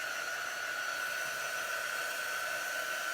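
A hair dryer blows steadily on black chalk paste, a constant close whooshing hum with a thin whine that holds unchanged throughout.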